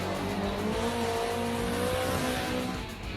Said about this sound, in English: he's in a rally car.